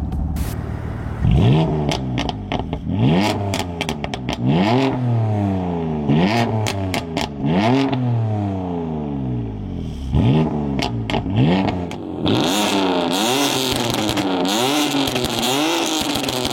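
BMW M4 Competition with Akrapovic exhaust tips, revved hard again and again: loud, close bursts that climb and drop back, with short gaps between, and no talking.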